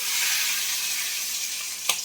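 Fish roe fries in hot oil with a close, steady sizzle and a brief clink near the end.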